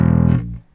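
A Spector bass played through a YYZ distortion pedal gives one short, loud, gritty distorted note that cuts off after under half a second, heard alone.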